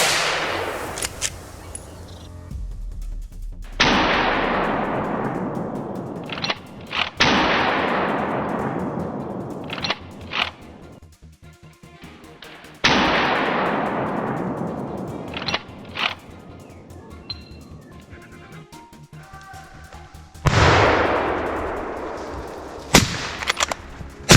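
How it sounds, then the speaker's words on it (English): Gunshots fired during a wild boar hunt in a forest, loud sharp blasts spaced several seconds apart, each followed by a long rolling echo through the trees. "An explosion echoed throughout the forest. The wild boar tried to escape, but my friend fired another shot"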